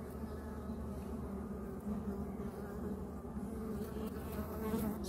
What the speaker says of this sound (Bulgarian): Тази е доста така пълна пита с пчели